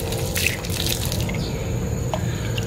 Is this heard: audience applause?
no